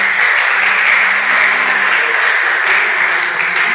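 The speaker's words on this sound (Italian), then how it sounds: "Un grossissimo applauso a queste 5 ragazze" Sustained, dense applause from an audience at a fashion show, cheering five girls on stage; steady and loud throughout with no talk over it.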